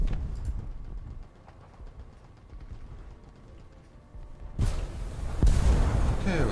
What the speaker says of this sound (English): Okay, well that's a big explosion.